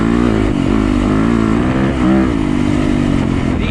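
Yamaha YZ250FX dirt bike engine revving loud and close on sandy, loose ground, a steady high buzzing drone with small pitch swings and a brief rise near the middle.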